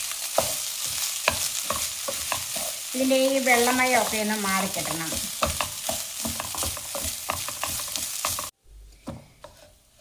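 Rice dry-roasts in a pan over a medium flame, with a steady crackling sizzle and scraping stirs throughout. A person talks over it, and the sound cuts off abruptly near the end.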